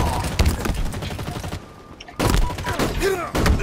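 Rapid automatic gunfire from a Halo Infinite Slayer multiplayer match, loud bursts of shots at the start, a brief lull, then more bursts resuming, with game sounds mixed in.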